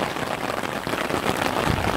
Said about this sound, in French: Et quand tu dis qu'il pleut, c'est rien de le dire.